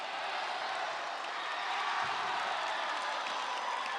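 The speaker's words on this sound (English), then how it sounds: "we got a bit of cheering competition going on here in the background" Crowd cheering fills the gym at a championship high school basketball game, FD Friars against GHS Panthers, as a steady broad wash of voices and noise from the stands, moderately loud and continuous throughout.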